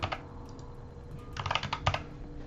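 Several quick clicks of a computer keyboard being typed on, a brief burst near the start and then two short clusters of keystrokes, close and fairly quiet against a low background hum.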